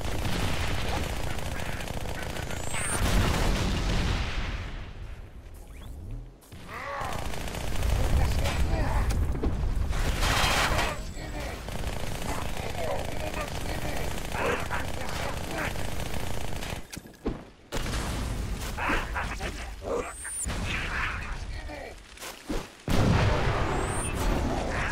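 A Wraith tank in Halo: Spartan Assault fires heavy, booming shots amid dense, continuous machine-gun-like gunfire and explosions, loud and close, with a voice talking over the barrage.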